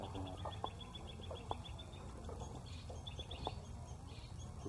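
A long-tailed shrike (cendet) calling, with repeated short chattering and clucking notes over a steady background hum, faint and fairly distant.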